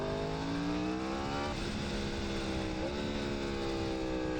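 A Yamaha R1 sport motorcycle's engine drones loudly and steadily as it runs, with its pitch rising smoothly under acceleration and two brief dips, like gear shifts, in the middle.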